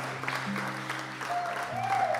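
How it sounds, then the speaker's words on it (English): Wedding guests applaud the couple, a soft, moderately distant wash of clapping over low background hum and music, steady across the short stretch. "So round of applause again for these guys"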